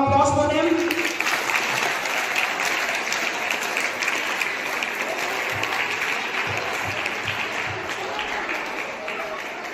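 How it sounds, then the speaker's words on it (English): A class of students applauds the competing teams during a classroom quiz, steady clapping filling the room for most of the stretch after a brief voice at the start. "Give a round of applause for them."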